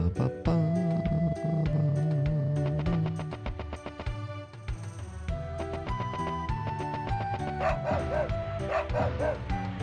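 Dog barks and yips from the Wild Arms video game, repeated sharp electronic woofs and small whimpering cries playing over looping game music throughout.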